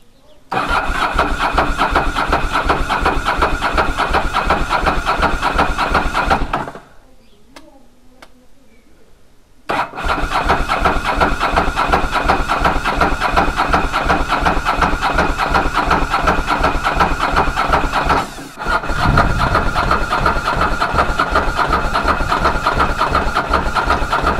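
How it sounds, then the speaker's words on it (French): A motorcycle starter cranks steadily and loudly after a carburetor rebuild. It stops briefly, then resumes in a long, even, churning run, close up, with no talking. "on va déjà faire tourner le démarreur, à mon avis, un petit moment pour ça"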